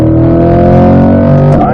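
Car accelerating out of a corner on the Spring Mountain race track, a loud, steady engine drone close by that rises in pitch near the end, with a voice talking over it.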